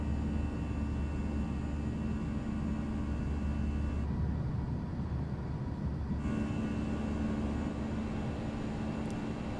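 Airbus A320 airliner engines roar steadily at climb thrust in X-Plane 11 after departure from Palma de Mallorca, a constant broadband rumble with a brief dip in the upper hiss midway.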